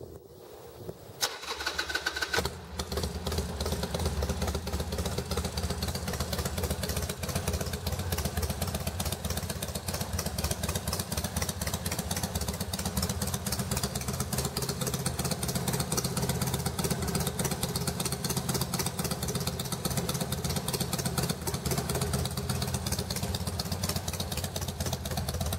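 A Harley-Davidson 883R motorcycle with a mechanical idle adjuster fires up, then runs steadily in a loud, even, close-up rumble that holds for the whole stretch without talk.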